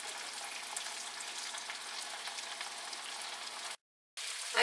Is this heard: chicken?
yes